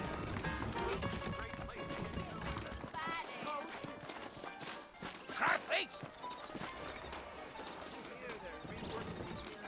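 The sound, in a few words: horse hooves clip-clopping in video game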